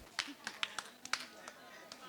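A few scattered hand claps from a small group of people, sharp irregular slaps spread across about two seconds, fairly close and light, with faint background talk.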